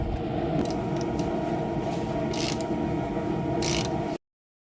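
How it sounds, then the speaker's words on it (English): Brake caliper bolts being tightened on a Nissan during a front pad and rotor job: a steady, continuous mechanical whir and grind like a power ratchet, with a few brief higher scraping bursts. It stops abruptly. "Let's go ahead and tighten up our caliper bolts here."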